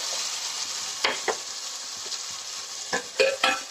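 Ingredients for chana dal vada sautéed and stirred in a pan, with a soft steady sizzle and sharp scrapes of the spoon against the metal, some of them clustered near the end.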